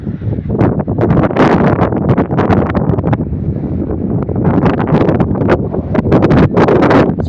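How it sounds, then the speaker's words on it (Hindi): Strong wind beside a canal roars steadily and loudly into the microphone, with heavy buffeting gusts and rumble that mask everything else. "साथ में हवा भी आ चुकी, इतनी तेज़ हवा है"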